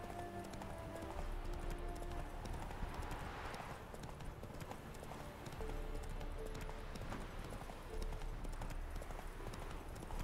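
Roach the horse trots in The Witcher 3, with a steady run of hoofbeat clip-clops at moderate volume over a low game ambience.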